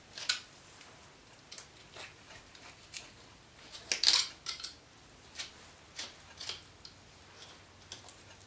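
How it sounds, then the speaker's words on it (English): Scissors snipping hair from a deer skull near the antler pedicle, heard as a series of quiet, scattered close-up clicks and snips with short pauses between them, with no talking. "Just cut all that hair all the way up to the base of the pedicle, so that way it comes off easy."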